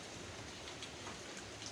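Steady rain falling on a wet Wednesday, an even broadband hiss with a few faint drop patters, constant and unbroken throughout, with no voices.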